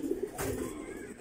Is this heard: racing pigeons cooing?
yes